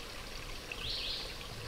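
Governor's Brook flows into a lake with a steady, soft trickle and burble of running water, faint and continuous, with a brief high bird-like chirp partway through.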